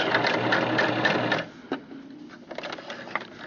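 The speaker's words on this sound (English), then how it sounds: "You're going to sew forward 3 stitches, backwards to the end, and then all the way to the end of your dart, and back stitch." A sewing machine stitches a dart on a lamb stuffed animal, running loudly and steadily for about a second and a half before stopping, followed by a few faint clicks and handling sounds.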